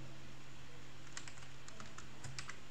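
Keys clatter on a computer keyboard during home Slackware server setup, a few quick bursts of clicks after a quiet stretch, moderately close with a steady background hum and no talking.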